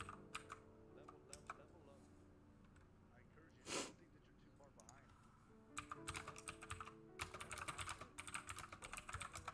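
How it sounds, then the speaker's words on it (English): Bursts of rapid keystrokes on a computer keyboard come in uneven clusters, with a snort or sniff partway through and a voice talking intermittently. "Well, you can't really watch it because I'm typing."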